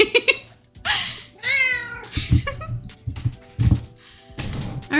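A pet cat meows several times up close, drawn-out rising and falling calls with short pauses between them, mixed with soft indoor handling noises.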